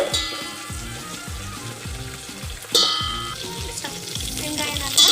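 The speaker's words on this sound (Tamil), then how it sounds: "கருவேப்பிலை சேர்த்துக்கலாம்." Onions and curry leaves fry in a pan for a veg kulambu, with a steady close sizzle, rhythmic stirring scrapes against the pan and a couple of louder crackles.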